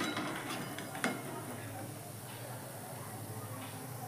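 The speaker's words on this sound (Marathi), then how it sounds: "तर अशाच मी सर्व तळून घेणार आहे." Shankarpali dough pieces frying in oil, with a steady soft sizzling hiss and a sharp metallic clink of a utensil near the start, fairly quiet and close.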